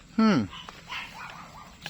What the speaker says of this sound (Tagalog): Natahol yung ating mga aso.